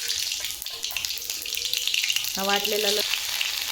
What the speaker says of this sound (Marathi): तेल गरम झालं, त्यामध्ये आपण आता जिरे मोहरी टाकू.